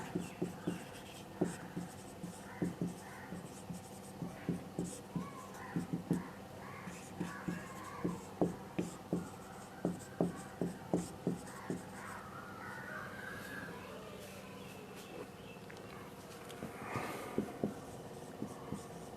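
Chalk or marker strokes tap and scratch across a classroom board during a chemistry lesson, a long series of short, sharp, evenly spaced writing sounds with brief pauses, fairly close and alone over a quiet room.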